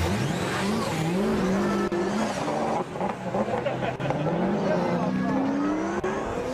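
A BMW 1 Series drift car at the French Drift Championship 2022 revs hard with continuous engine wail and tyre squeal, loud and sustained throughout, with a commentator talking over it.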